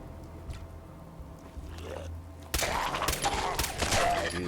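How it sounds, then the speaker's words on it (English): Video game gunfire erupts abruptly after a quieter stretch, dense rapid bursts of shots filling the rest of the moment, moderately loud with no talking over it. "Oh, they're shooting at something."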